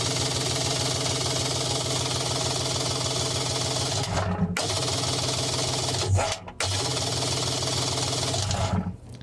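A Kawasaki ZXI 1100 jet ski engine cranks over on its starter with a fast, even, loud chugging whir from close by, broken by two brief cutoffs partway through before the cranking resumes.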